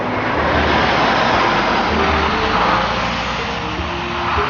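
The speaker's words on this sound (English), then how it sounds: "See that truck going around there?" A truck rounds a small residential roundabout, its engine a steady low rumble that holds the whole time at moderate distance, with a slight swell near the end and no talking.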